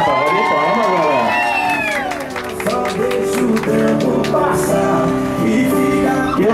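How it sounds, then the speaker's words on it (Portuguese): People gathered for a surprise birthday celebration in central São Paulo clap and cheer loudly, with whoops and shouts over music, the applause dipping briefly midway before rising again. "Uma salva de palmas, galera."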